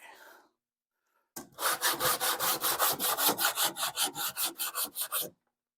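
Hand sanding over a welded rust patch on a car quarter panel: about twenty rapid, rhythmic back-and-forth rasping strokes, close and loud, with no talk.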